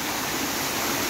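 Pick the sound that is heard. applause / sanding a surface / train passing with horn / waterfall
waterfall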